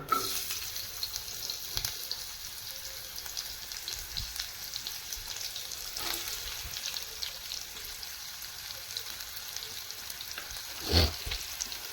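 Carrots frying in oil in a pan make a steady, moderately quiet sizzle that carries on throughout, with a few faint clicks and one louder knock near the end, and no voices.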